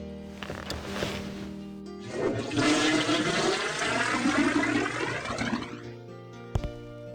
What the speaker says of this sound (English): At least we don't need to think about flushing.